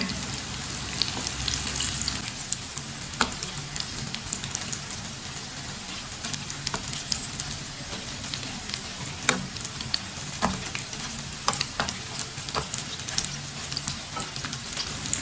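Leftover rice pakoras fry in a pan over medium heat, a continuous close crackling sizzle with scattered sharper pops and occasional stirring clicks, no voices.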